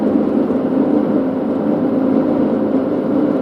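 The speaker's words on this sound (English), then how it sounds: "That's a four-wheeler." A four-wheeler ATV on a highway gives off a steady whirring engine drone that holds even and fairly loud throughout, with no voices.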